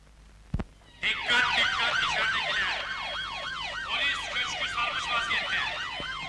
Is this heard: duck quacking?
no